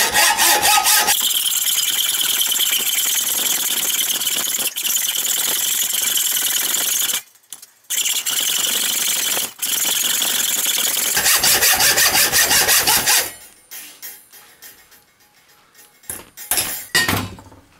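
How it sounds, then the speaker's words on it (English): A hacksaw cuts through bolts for a folding aluminum bucksaw, giving long, loud, continuous rasping strokes, two brief pauses, then softer, irregular scraping and tapping toward the end, close up with no speech. "Okay, last step, I have to cut down all four bolts."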